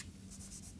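Faint scratchy strokes of writing on a board during a lecture on phase transformation in materials, a few short marks in quick succession over a quiet background.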